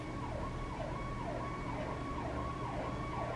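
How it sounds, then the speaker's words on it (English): Ambulance siren wailing in a steady repeating rise-and-fall pattern far off in the distance, faint under a constant low background hum with no talking. "I hear siren in the distance."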